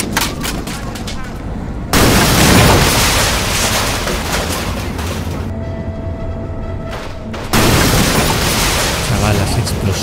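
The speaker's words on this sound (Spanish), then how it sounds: "Explosiones que parece que van a mover el espacio y el tiempo." Explosions in an odd first-person shooter video game, including a whole house blowing up: two loud broadband blasts with a long rumbling tail, heard alongside the game's other sound effects.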